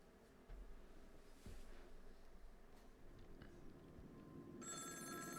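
A telephone rings in the video game Honkai: Star Rail, a bright repeating electronic ring that comes in near the end over a steady low ambient game soundscape.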